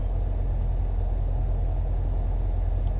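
A car drives along steadily, giving a constant, close low engine and road rumble with no talking over it.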